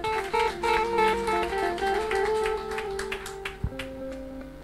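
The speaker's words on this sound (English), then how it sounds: "Clap for Jesus." A church congregation claps in a loud, dense burst while sustained organ or keyboard tones hold underneath. The clapping thins toward the end, and a sharp low thump lands near the close.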